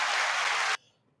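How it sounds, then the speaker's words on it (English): A canned applause effect triggered from a soundboard button, a dense burst of clapping that cuts off abruptly after under a second, leaving near silence. "I didn't mean to hit the applause button for that"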